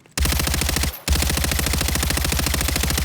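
Rapid suppressed automatic gunfire from a weapon fitted with a quartermaster suppressor in Warzone, two sustained bursts of evenly spaced muffled shots separated by a brief pause, loud and close with no talk.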